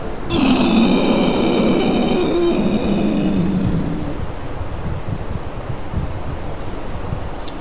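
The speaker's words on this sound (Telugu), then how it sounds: "మళ్ళీ 2 ముక్కుల ద్వారా గొంతు నుంచి గురకలాగా గాలి తీసుకోండి" Ujjayi pranayama breathing during a yoga class: a steady, rasping, snore-like rush of air drawn through the throat via both nostrils, sustained and fairly close for several seconds, then easing off.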